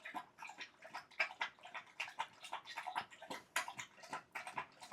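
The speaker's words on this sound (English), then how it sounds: "Now you get to listen to my dog drinking water." A dog laps water from a bowl, quick rhythmic wet slurps repeating close to the microphone, clear and steady over a quiet background.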